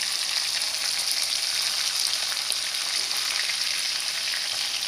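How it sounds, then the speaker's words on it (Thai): Fermented pork ribs fry in a pan with a steady, close, continuous sizzle and crackle, holding an even loudness throughout with no talking. "ทอดน้นที่โครงหมูครับ"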